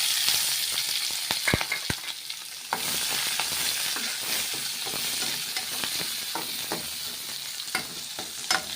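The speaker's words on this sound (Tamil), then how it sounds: "வெங்காயம் நல்லா வதங்கணுங்க" Chopped onions sauté in hot oil with a steady crackling sizzle, stirred now and then with sharp scraping clicks, close and moderately loud throughout.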